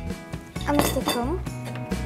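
A spoon stirs a Bucovina-style omelette mixture in a frying pan, giving a few close, quick metallic clinks and scrapes against the pan while a voice briefly speaks.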